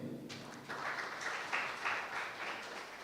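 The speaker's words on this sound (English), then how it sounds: "Let us clap for them." A crowd at a university pitch competition and showcase in Uganda claps, faint and somewhat distant, with the applause swelling slightly over a few seconds.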